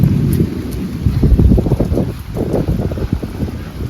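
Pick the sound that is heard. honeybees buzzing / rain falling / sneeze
rain falling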